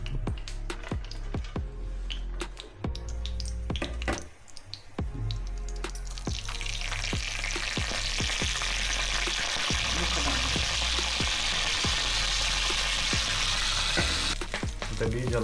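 Chicken ghee roast sizzling steadily in a pan, with repeated stirring knocks and scrapes over a continuous loud frying hiss that swells in the second half.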